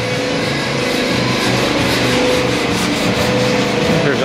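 Bodywork being sanded on a vehicle at Fink's Restoration in Sumner, Iowa: a steady, loud, continuous abrasive rubbing that runs unbroken throughout, with no talk over it.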